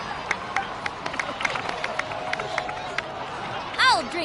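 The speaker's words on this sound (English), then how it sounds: "please give another round of applause for them" A crowd applauds in Genshin Impact's Natlan, scattered claps pattering steadily under a busy murmur of voices for about four seconds, with a brief brighter swell near the end.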